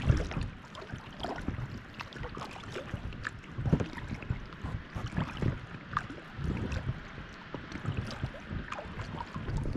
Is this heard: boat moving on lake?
yes